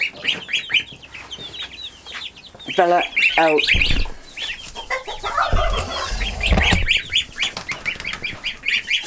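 Baby chicks and goslings peep and chirp in a close, busy chorus of high cheeping, with a few louder honking bursts; a person speaks briefly over the birds.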